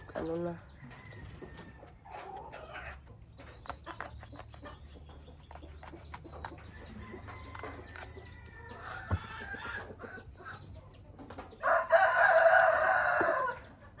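Roosters crow and chickens cluck outdoors in the early morning by a vegetable garden, with a loud crow near the end and people talking intermittently.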